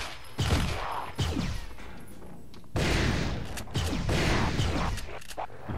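Gunfire in the Turok 3: Shadow of Oblivion video game, several loud shot bursts in irregular clusters with booming tails, alone with no talk.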